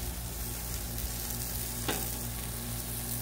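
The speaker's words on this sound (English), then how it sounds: "Steak's getting browned nicely." Tri tip steaks sizzle on a griddle in a continuous, moderately loud hiss with a low steady hum beneath and one brief sharp click midway.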